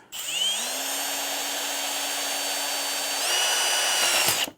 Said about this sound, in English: you can reverse the direction of the drill